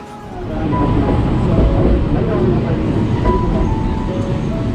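Sagano Scenic Railway sightseeing train in Kyoto running steadily, a continuous loud low rumble and rattle throughout, without pause.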